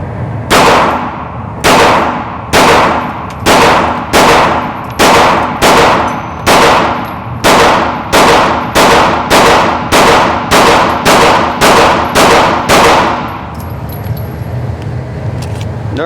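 A Ruger American pistol fires about thirteen loud, sharp shots at a range, spaced at a steady pace under a second apart, followed by quieter ambient noise.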